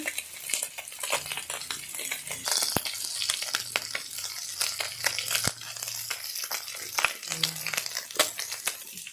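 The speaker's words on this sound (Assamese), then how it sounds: "এয়া মাছ ভাজি আছোঁ এতিয়া।" Small fish sizzle in a hot pan for an Assamese elephant-apple sour dish, with steady crackling, close and moderately loud, under a scatter of sharp metal utensil clinks and scrapes throughout.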